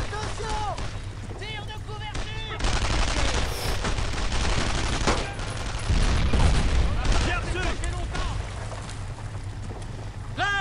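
Wartime gunfire in Brothers In Arms: Road to Hill 30 crackles steadily with heavy bursts and booms, while voices shout commands over the continuous battle din.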